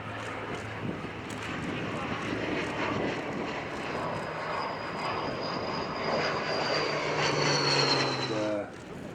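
Hawker Hurricane and Supermarine Spitfire warbirds fly at the Duxford Flying Legends airshow, a steady distant propeller-engine drone that swells and fades as they pass, with a faint commentary voice over the top.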